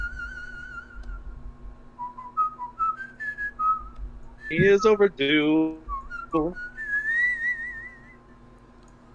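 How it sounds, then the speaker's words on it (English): A melody from Zelda is whistled in clear, wavering tones, rising and falling in short phrases, broken midway by a burst of speech before the tune resumes, over a faint steady hum. "Who's whistling that Zelda music?"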